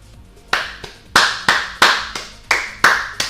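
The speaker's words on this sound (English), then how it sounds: "I'm clapping" One person claps slowly and deliberately, about eight sharp, close claps in an uneven rhythm, each ringing briefly in a quiet room with no talk.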